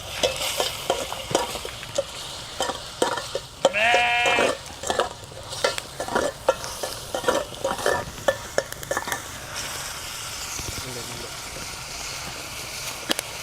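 Onions and dried red chillies frying in hot oil in a village kitchen, a steady sizzle broken by repeated scrapes and clatters of stirring, with a brief squeaky metallic clink partway through.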